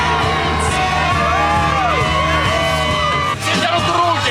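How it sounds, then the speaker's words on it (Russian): Crowd at a Mardi Gras street party in New Orleans yelling, whooping and cheering all at once, a dense, loud and continuous roar with a brief dip near the end. "Все дерут руки! Все кричат!"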